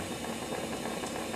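A trimming tool chattering against clay on a pottery wheel while throwing off the hump, giving a dense, rapid rattling buzz that runs steadily and close for just over a second.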